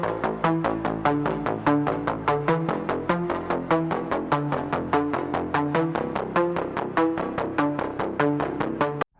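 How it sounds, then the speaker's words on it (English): A synth mid bass riff from a song remake pulses in quick, even repeated notes, a buzzy, driving line that moves between chord roots, loud and alone until it stops abruptly at the end. "It's the bass riff that kind of happens right in the intro of the song and runs throughout."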